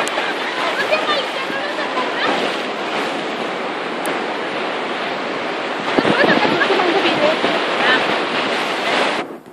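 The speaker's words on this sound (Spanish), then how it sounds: "Las olas." Waves crash and churn along the beach at Iztapa, a loud continuous roar of surf with a fresh surge midway and some wind buffeting the microphone, and a voice speaks briefly.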